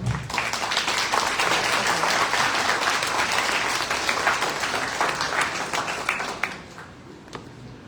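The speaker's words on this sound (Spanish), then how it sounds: "Pido un fuerte aplauso, por favor" Applause at a family law seminar at a university law faculty, a loud, full round of clapping from the audience that holds steady and then tapers off to a few scattered claps near the end.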